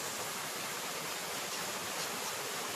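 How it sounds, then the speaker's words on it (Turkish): Waterfall seen in person, a steady roaring rush of falling water filling the whole clip at close range, constant and unbroken with no voices. "Şelaleyi gösterelim."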